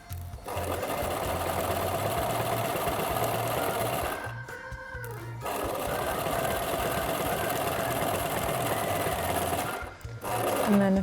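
A sewing machine stitches along a bust dart on a Mary Quant-style minidress, a fast steady whirring chatter that stops briefly twice before resuming, close and moderately quiet.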